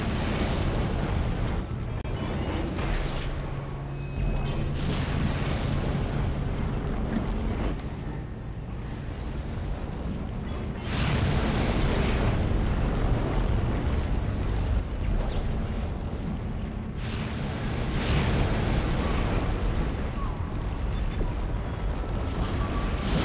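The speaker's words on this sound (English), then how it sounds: "Oh god, everything's on fire now" Fire burns through a hallway in the game Dead Space, a loud, continuous roaring rush with surging swells and dips, close and enveloping throughout.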